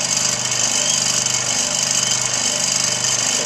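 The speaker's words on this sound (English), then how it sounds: "Now you see the vibration on that? Will lift all the bubbles." Vibrating machine shaking a resin casting of pepper grinder blanks to lift bubbles, a loud continuous buzzing rattle with a harsh, even texture throughout.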